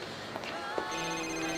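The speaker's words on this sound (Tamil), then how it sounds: "பிரைன் தான் கால் பண்றேன்னு நினைக்கிறேன். எடுக்காத" A telephone rings in a domestic scene, a steady electronic trill holding at moderate level with faint background sounds and no talk over it.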